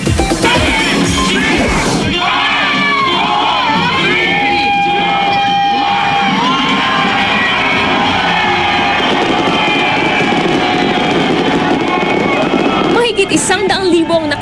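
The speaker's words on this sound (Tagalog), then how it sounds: "Pagpatak ng hating gabi, nagkaroon ng engranding fireworks display na tumagal ng halos 10 minuto." A grand New Year fireworks display at midnight at SM Mall of Asia, with loud, dense, continuous bangs, crackles and whistling bursts layered over a cheering crowd throughout.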